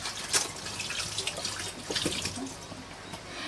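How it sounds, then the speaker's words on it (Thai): Ginger water pours into a container while a morning lemon and ginger drink is made. A close, steady splashing trickle runs with small uneven surges, and nobody speaks. "ให้เราเทนะคะ ในส่วนของขิงลงไปค่ะ น้ำขิงลงไปนะคะ"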